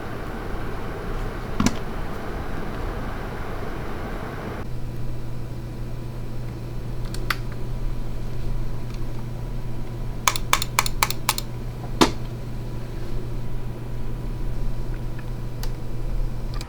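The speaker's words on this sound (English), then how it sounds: "hear the difference between the NZXT fan at idle and the Noctua fan in its stress test" Computer fans in an NZXT H1 case whir with a steady airy hiss, an NZXT fan at idle versus a Noctua A14 under stress test. Partway through, a low droning hum joins in, and a few sharp clicks and taps sound over it.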